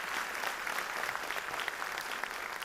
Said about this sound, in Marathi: आपण सगळे टाळ्या वाजवून